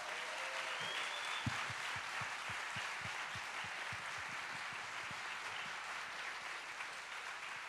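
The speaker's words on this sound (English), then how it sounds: "Let's have another round of applause for our filmmakers" A festival audience claps for student filmmakers at a study abroad film event, distinct individual claps standing out from a soft, even bed of applause heard at some distance.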